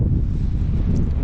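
Strong wind buffets the microphone on a hilltop walk, giving a constant low, rumbling roar with no pauses.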